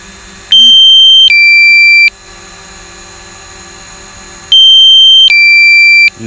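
A DJI Mavic Pro drone's low-battery warning alarm sounds loudly in two bursts, each a sustained high electronic tone stepping to a second pitch, separated by a few seconds of quiet.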